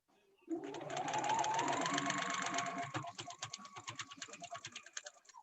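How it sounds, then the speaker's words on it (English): Sewing machine stitching through a paper-pieced quilt block, a steady loud run of rapid needle strokes that slows into distinct individual stitches near the end, close and alone. "Flip my piece over and I'm going to sew"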